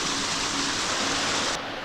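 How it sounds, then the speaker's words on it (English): Dense, steady rush of a small waterfall at Dawson Creek Falls in Mount Nebo, D'Aguilar National Park, Queensland, heard close and continuous, briefly dulling at the end. "No name waterfall, people."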